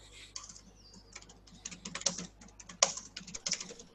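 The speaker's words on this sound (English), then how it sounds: "I think he's typing." Computer keyboard typing during an online webinar, a rapid irregular run of sharp clicks and key taps, fairly close and clear, with no talking over it.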